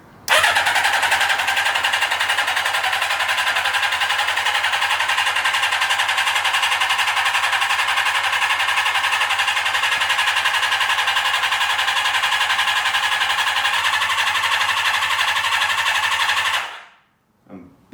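A Kawasaki GT550 motorcycle engine cranks steadily on choke for about sixteen seconds without catching, a loud, continuous whirring churn that cuts off abruptly near the end.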